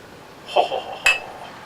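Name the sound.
glass clinking as it is handed over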